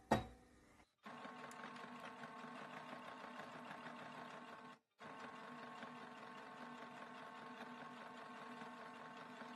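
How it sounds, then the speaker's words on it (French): A sewing machine runs steadily while topstitching a flat-felled seam, a close, even mechanical whir that stops briefly once and resumes, with no voices. "Et ensuite on vient faire la surpiqûre facultative ici."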